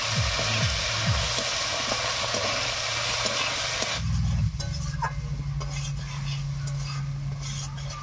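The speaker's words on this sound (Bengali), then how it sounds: "মাছটা একটু ভাজা ভাজা করে নেব।" Dried fish fries in a wok with a loud, steady sizzle and stirring scrapes; partway through, the hiss drops sharply and a lower, steady crackling continues to the end.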